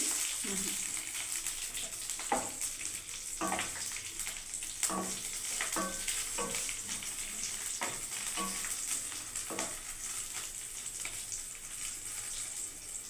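Chopped and whole green chilies sizzle in hot oil with a steady bright frying hiss, broken by crackles and stirring clatters, while a voice talks faintly.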